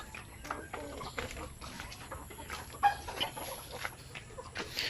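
Zamboanga Peninsula native chickens cluck softly and intermittently in a farm pen, with scattered faint bird calls over a steady low background hum.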